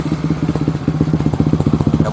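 A bore-up Kawasaki KLX motorcycle on its electric starter, heard as a close, loud run of fast, even mechanical pulses throughout.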